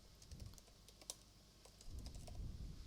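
A short burst of computer-keyboard typing, with a handful of crisp keystrokes close by and no voices.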